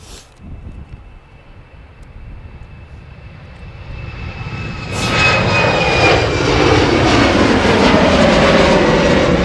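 An Etihad Boeing Dreamliner jet at Amsterdam Schiphol airport, its engine roar building from a low rumble to a loud, sustained broadband rush with a thin whine above it, heard from fairly close outdoors.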